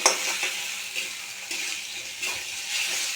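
An egg fries in a pan with fried potatoes, giving a steady close sizzle with a few soft bumps and stirring touches throughout.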